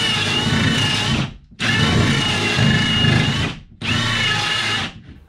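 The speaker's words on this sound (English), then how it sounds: "The last thing I need to do is drill the holes for the power cables to come through." A power drill whirs in three sustained bursts separated by short pauses, loud and close, biting steadily into a garage wall to make holes for power cables.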